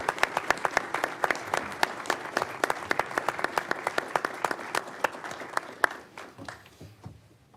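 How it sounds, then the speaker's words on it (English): A room full of people at a county commissioners' business meeting gives a round of applause for standing volunteers: dense, steady clapping close by that runs several seconds and then thins out and stops. "Will everyone please join me in a round of applause?"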